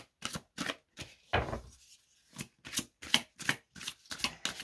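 Love angel oracle cards being shuffled in a deck, heard as a string of crisp riffling bursts in a steady rhythm, broken by one short pause, close and fairly quiet with no speech.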